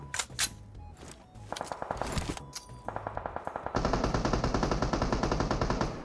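Gunfire in PUBG Mobile, sharp single shots and short bursts building into sustained rapid automatic fire, loud and close.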